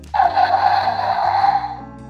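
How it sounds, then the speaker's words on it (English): Short, loud electronic roar from a Jurassic World Dino Trackers Nigersaurus dinosaur toy, starting abruptly and holding a harsh, growly tone for about two seconds before cutting off. "That sounds like an Indominus."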